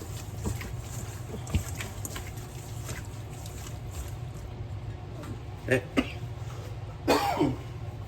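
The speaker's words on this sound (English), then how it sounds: "That damn seasoning choke you up." Someone coughs and clears their throat while cooking white beans, choked by seasoning such as Tony's, garlic and onion powder. A few sharp coughs stand out near the end over a low background rumble and faint kitchen noise.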